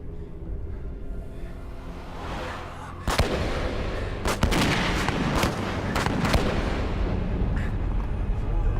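Gunfire in a tense cave confrontation: a burst of sharp bangs starts about three seconds in, followed by several more loud cracks over a dense, rumbling background, with no speech.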